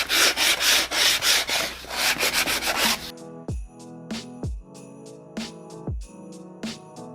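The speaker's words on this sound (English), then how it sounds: "I have this sanding block from Dollar Tree that I'm going to use to just sand that off" A Dollar Tree sanding block rubs against wood in quick, close strokes, first as dense rapid scraping, then slower separate rasps with brief pauses between them.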